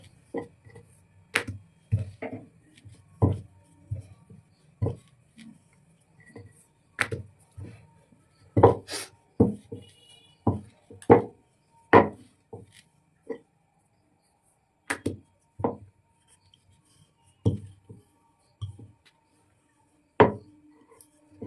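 Spinach paratha dough is rolled out on a board with a rolling pin, giving a series of distinct wooden knocks and thumps at an irregular, unhurried pace, close and fairly clear, with short quiet gaps between strokes.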